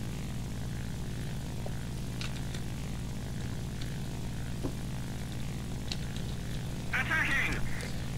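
A steady, even drone of propeller aircraft engines in the combat flight game War Thunder, holding constant throughout with a brief brighter burst of effects near the end.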